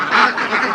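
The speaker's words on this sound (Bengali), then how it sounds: "আমরা এই সুন্দর হাঁসের খামারটা দেখালাম।" Ducks on a duck farm give loud, close honking quacks in a quick run of overlapping calls.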